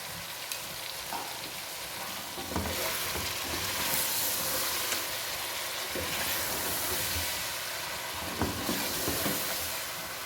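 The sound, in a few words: masala and yogurt frying for chicken korma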